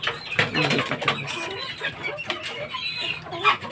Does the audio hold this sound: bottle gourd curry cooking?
no